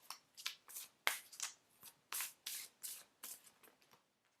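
Unicorn oracle cards shuffled by hand in a dozen quick, crisp riffled bursts, close and soft, with no talking.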